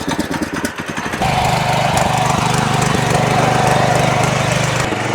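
The air-cooled engine of a power weeder mini tractor sputters in uneven pulses, then settles into a loud, steady running drone close by, with no one talking over it.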